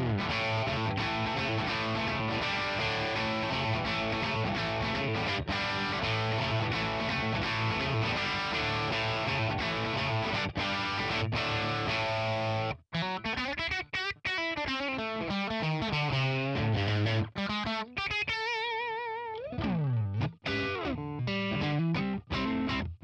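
A Telecaster plays through the Tonex Benson Chimera Crunch amp model, giving crunchy, driven chords throughout and then single-note lines and bends, loud and close with no talking.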